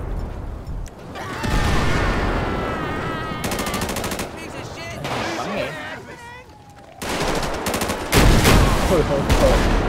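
Gunfire rattles in the video game GTA 5 in long, loud bursts of rapid automatic shots with heavier booms, broken by short lulls, while a voice talks excitedly over the fighting.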